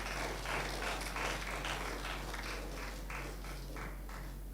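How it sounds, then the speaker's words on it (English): A seated audience at an engineering symposium gives a round of applause, a soft, steady patter of many hands clapping at a distance for a few seconds. "I hope you will give that a round of applause"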